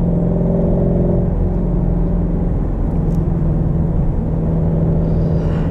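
The engine of a 2016 Shelby GT350, floored in fifth gear at low revs, gives a loud, steady, deep rumble with a droning hum that holds without pause, heard from the driver's seat.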